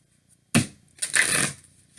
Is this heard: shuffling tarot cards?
yes